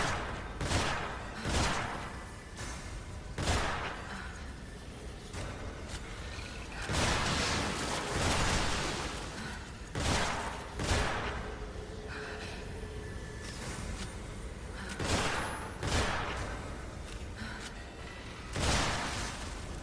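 Pistol shots ring out in the horror game The Evil Within, a string of sharp, loud bangs spaced a few seconds apart over a dark, rumbling ambient background.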